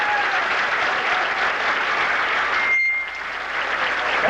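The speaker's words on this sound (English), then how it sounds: "Nice big round of applause to all the girls," An audience at the Miss Malta of Toronto 1983 pageant claps in a steady, sustained wash, easing slightly near the end and then picking back up.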